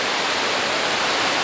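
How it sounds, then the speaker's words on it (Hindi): A steady, dense roar of falling water fills the air, loud and unbroken, from the Tungareshwar waterfall near Mumbai. "ये ऊपर से पूरा झरना गिर रहा है"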